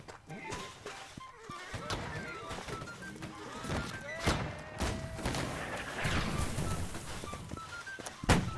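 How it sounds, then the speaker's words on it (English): Cannon and rocket artillery fire from the Napoleonic-era game Holdfast: Nations at War pounds a road: scattered heavy thuds and booms, some close and sharp, over a busy, constant battlefield din. "The artillery was really starting to open up at this point. Cannons and rockets firing directly along the road."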